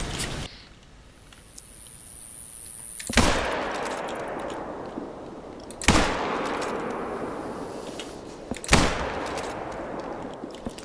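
Rifle shots in the hunting game theHunter, fired at a puma around 400 metres away: three sharp, loud reports spaced a few seconds apart, each followed by a long rolling echo that fades across the outdoor landscape.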